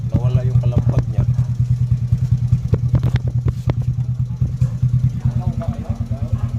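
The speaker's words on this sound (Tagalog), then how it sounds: "Kung ating pakinggan yung tambutso guys, parang na-refresh siya." A scooter or motorcycle exhaust idles close by in a parts shop, giving a loud, rapid, even pulsing putter with a few sharp clatters over it, while people talk in the background.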